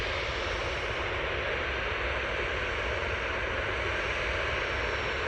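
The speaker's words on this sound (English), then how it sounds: "there's the mighty Emirates. We'll see that one make its way to stand now" An Emirates airliner taxis to its stand at Manchester Airport, giving a faint, steady engine hiss and hum at a distance, even and unbroken throughout.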